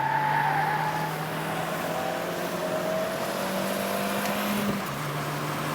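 A small Peugeot car is driven hard around a race track, its engine droning steadily with gradually shifting pitch as it strains through a corner, heard from inside the car with no talking.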